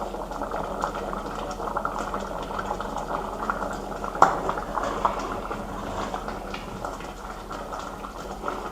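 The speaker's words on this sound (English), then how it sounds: "This should be allowed to simmer, and once it's simmer and it's thick enough" An Ital bean and root stew simmering in a pot, a steady low bubbling and soft popping close by at moderate volume, with one sharper click partway through and no speech.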